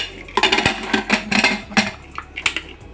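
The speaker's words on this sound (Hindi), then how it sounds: "इस पर हम एक प्लेट लगा देंगे और कुकर का ढक्कन बंद कर देते हैं।" The lid of a pressure cooker is set in place and closed, giving a run of close, sharp metallic clanks and scrapes in quick uneven bursts with short pauses between them.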